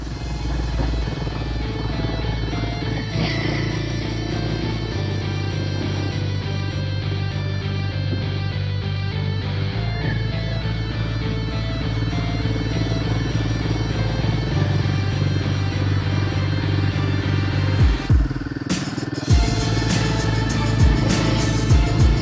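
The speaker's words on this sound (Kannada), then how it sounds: "ಸ್ವಲ್ಪ ಥ್ರಾಟಲ್ ಕೊಟ್ಟರೆ ವೀಲ್ ಸ್ಪಿನ್ ಆಗ್ತದೆ" An off-road motorcycle climbing a steep dirt trail near Shri Gangadareshwara holds a loud, sustained engine drone. The revs shift in steps as the throttle is worked, and near the end come sharp bursts of revving as the wheel spins.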